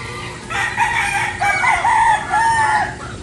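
Roosters crow at dawn in a rural Philippine yard, several long cock-a-doodle-doo calls overlapping and following one another at moderate distance, with faint clucking from other fowl and no one talking.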